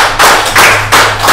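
Several bursts of clapping from a group, swelling and fading in roughly three waves, fairly close and loud.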